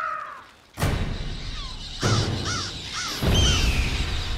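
Crows caw repeatedly in a cartoon, several harsh calls in a loose rhythm over thick noisy rumbling and abrupt thuds, fairly loud and close.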